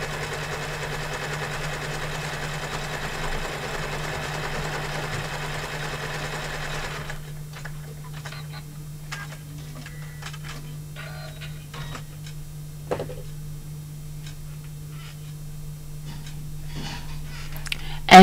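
An embroidery machine stitches down cork on a notebook cover in the hoop, a steady rapid mechanical whir and needle clatter that is louder at first, then drops to a quieter hum with ticking.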